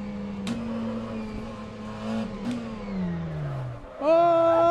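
McLaren Senna engine in the rFactor 2 sim racer: a steady hum that slowly falls in pitch with a couple of sharp clicks, a short lull, then a loud, bright rev surge at the end.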